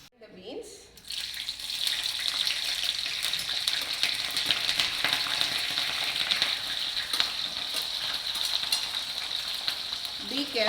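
Beans frying in hot oil in a pan for a Hyderabadi vegetable biryani, a steady close sizzle with crackling spatter that holds throughout, no talk.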